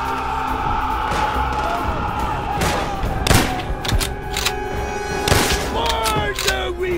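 Gunfire in Call of Duty: World at War, mission Their Land, Their Blood, with several sharp shots and bursts cracking over a steady battle din while voices shout through the scene.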